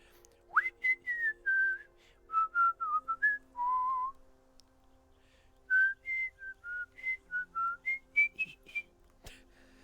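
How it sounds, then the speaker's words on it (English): Someone whistles a wandering tune close by, short sliding notes in two phrases separated by a brief pause, over a quiet hum, in a VR roleplay game. "Just walk around whistling."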